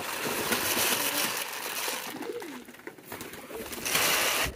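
Pigeons coo and call in a steady, close chorus with a noisy rustling background, continuing throughout without any talking.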